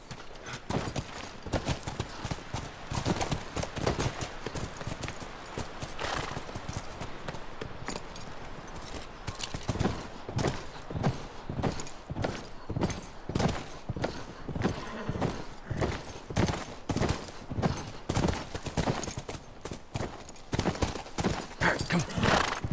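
Horse hooves clip-clop in a steady, brisk rhythm throughout in the video game The Last of Us Remastered, sounding fairly close, with a few quieter pauses early on.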